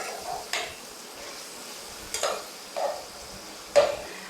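Onions fry toward golden for a chicken keema, with a soft background sizzle broken by a few separate stirring scrapes and clinks of a spoon against the pan, heard up close and without talk.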